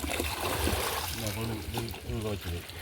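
Water splashes and trickles while a bowl is rinsed out beside a fish pond. The pouring and sloshing is close by, and voices talk over parts of it.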